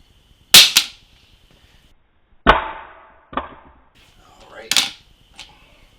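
A KCI MP5 magazine is dropped on its side onto a hard surface during a torture test. About four sharp, clattering impacts are heard close up, separated by brief silences.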